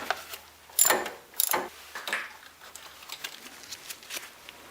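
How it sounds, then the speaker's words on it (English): A ratchet fitted with a 12mm socket loosens a nut during alternator work on a 2002–2006 Nissan Altima V6. A few sharp, close clicks and rasps come first, then lighter, quieter ratcheting taps. "The 12mm socket, take this nut off."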